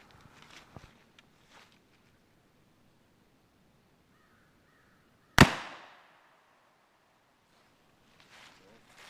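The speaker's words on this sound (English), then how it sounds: "I'm going to put another percussion cap on and take a shot now" A single loud, close muzzleloader rifle shot fired with a percussion cap in the Pennsylvania woods, a sharp crack with a ringing tail, between quiet stretches with faint rustling and distant bird calls.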